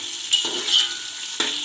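Onion and garlic frying in hot oil for a potato curry, a steady soft sizzle with two sharp scraping stirs of a spoon in the pan, close by and with no one talking.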